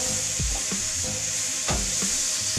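Tomatoes sizzle steadily in a pan over medium heat, a constant bright frying hiss broken by several soft knocks and scrapes as they are stirred, with no talking.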